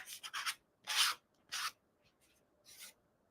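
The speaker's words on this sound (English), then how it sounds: "if like you have a piece of pretty fine sandpaper, just take it and go like so" Fine sandpaper rubbed along the edge of a cut paper card front, giving five short, dry scratchy strokes, close and fairly quiet, with pauses between them and no talking.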